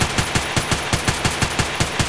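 Gunfire in the Contract Wars video game: about a dozen sharp shots in a fast, steady rhythm, each a punchy crack with a low thump, loud and close over a constant background hum.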